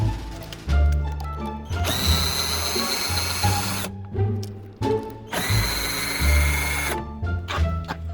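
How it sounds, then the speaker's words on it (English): Power drill spinning out two 10 mm screws on a BMW 335 (E93) during an expansion tank replacement, with two sustained whirring runs separated by brief ratcheting and mechanical clatter, close and loud. "All right, so we got those 2 screws out."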